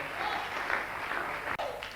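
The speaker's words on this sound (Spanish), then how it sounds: "Denle un aplauso a Cristo en esta hora." Congregation at a Spanish-language church service applauds in a dense, steady wash of clapping that carries on briefly, a soft crowd roar beneath it.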